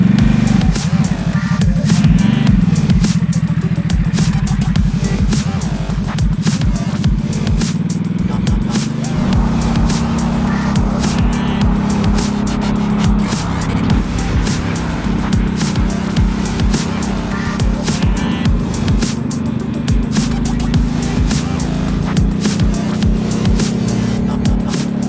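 A Ducati SuperSport motorcycle riding on a track, its engine a continuous loud drone with wind buffeting throughout, no break in the steady roar.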